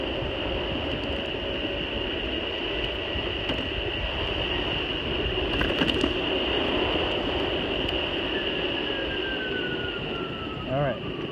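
Shark Wheel electric skateboard in top-speed H plus mode taking off from a stop: a steady motor whine rising in pitch, over continuous loud rushing wind and road noise.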